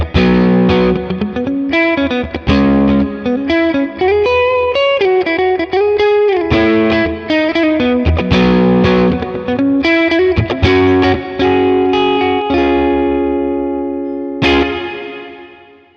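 Synth chords fed through a Strymon Cloudburst reverb pedal, set as a light, traditional-style reverb: a steady, loud wash of sustained tones with smooth tails, playing alone and fading out at the end.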